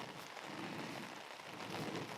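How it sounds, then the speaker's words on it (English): Steady rain falls across a farm field, a dense continuous hiss of drops close by with no pauses. "It's raining, obviously it's raining, because I'm on a farm and I'm in a field."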